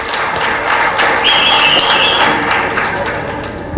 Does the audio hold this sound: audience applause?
yes